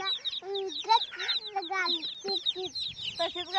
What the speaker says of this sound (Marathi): तशी काय कोंबडी गावली?